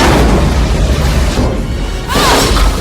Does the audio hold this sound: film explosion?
yes